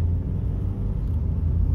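Honda Fit Hybrid car accelerating on an open straight road, a steady low rumble of engine and road noise heard from inside the cabin.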